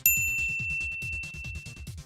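A bright notification bell ding rings once at the start with a clear ringing tone that fades slowly, set over a soft repeating low rhythmic backing.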